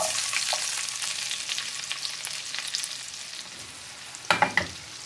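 Peppers fry in butter in a pan, hissing with a bright, moderate sizzle that fades a little over time, then a few sharp stirring clatters near the end.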